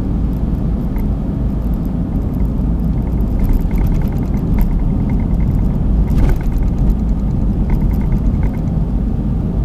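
A 2012 Smart Fortwo coupe Passion mhd with Softouch gearbox rolls over a very bumpy road. Cabin road rumble stays steady and loud throughout, with occasional light knocks and thumps rising over the drone.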